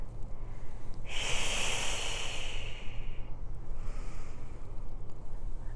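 A long, breathy exhalation swells in loudly and close, holds for about two seconds during a Pilates exercise, then a softer breath follows over steady low background hiss.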